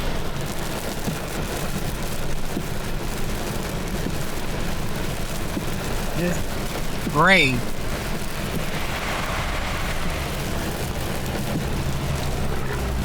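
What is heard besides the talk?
thunderstorm with rain and small hail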